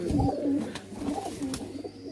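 A pigeon from across the Attari border coos in low, throaty rolling calls, repeated through the moment, close to the listener with a faint murmur of background noise.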